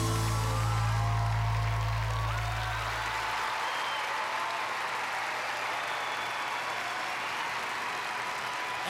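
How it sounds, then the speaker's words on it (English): An audience cheers and applauds loudly in a standing ovation after a dance solo at a competition, the dense clapping and crowd roar sustained throughout after a low musical tone fades out. "And the crowd is going insane."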